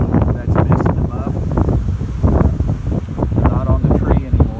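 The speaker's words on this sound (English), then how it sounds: "They are fanning really good here, but it's so windy right now." Strong gusty wind roars across the microphone outdoors during a honeybee swarm capture beside a hive box. A steady windy rush fills the clip, with someone talking continuously over it.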